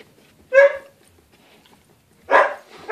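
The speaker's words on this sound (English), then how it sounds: "Making the little puppy sounds." A doodle puppy lets out three short yips and whimpering barks close to the microphone, one early and two near the end, with quiet gaps between.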